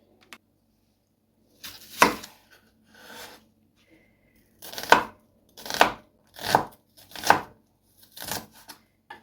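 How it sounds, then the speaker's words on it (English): Onions chopped with a knife on a board for a traditional Turkish dish, heard as sharp close thuds, a few scattered at first and then a quick run of five or six evenly spaced chops with no talking. "So I'm going to quickly chop onions"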